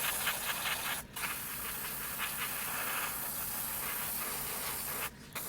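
An airbrush sprays thinned paint onto a scale model in a continuous soft hiss. The spray is faint and steady, with two brief pauses where it stops and then restarts.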